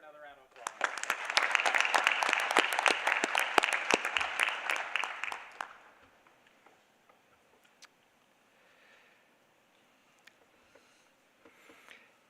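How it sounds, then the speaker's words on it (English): Applause from the audience at a school board of education meeting rises into a dense, loud burst of clapping for several seconds, then thins out to a few scattered claps and quiet room noise. "Let's give her another round of applause."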